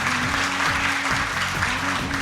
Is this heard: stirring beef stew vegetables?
no